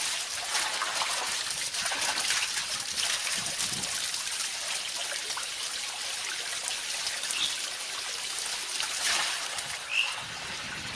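Water poured over the head while bathing makes a continuous splashing and trickling hiss, steady and fairly close, with a brief louder splash near the end.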